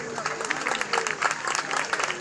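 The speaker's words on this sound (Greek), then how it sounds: "Ένα χειροκρότημα παρακαλώ." Applause from an audience at an outdoor children's festival in a Greek village, steady clapping for about two seconds with a little crowd murmur mixed in.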